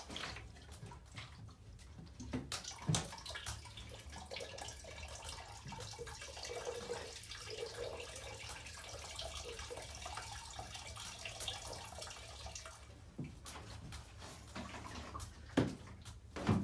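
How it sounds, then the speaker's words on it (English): Water pours into a container for an off-grid shower, a soft continuous splashing and trickling that runs for many seconds, with a few louder knocks near the end. "Maybe I'll put just a little bit of water in here."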